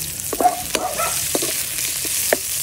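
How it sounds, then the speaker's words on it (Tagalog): Onions sautéing with garlic and ginger in a pan, a soft continuous sizzle broken by several spoon scrapes and taps spaced about half a second apart. "At saka yung salagagin po natin yung sibuyas guys"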